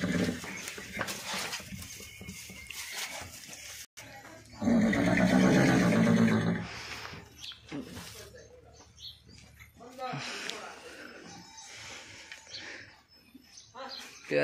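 A Sindhi mare neighs loudly and at length, agitated by another horse standing nearby, with someone talking before and after the call.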